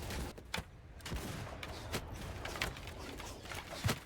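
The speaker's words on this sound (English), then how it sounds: "We'll get ready to get some shots off with our troops here." Troops fire volleys of guns during a castle assault in the game Bannerlord Shokuho, with scattered overlapping musket-like shots and bursts, moderately loud amid battle noise and no talking.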